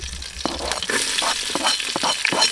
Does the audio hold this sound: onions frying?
yes